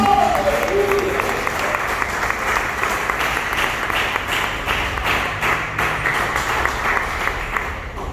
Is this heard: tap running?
no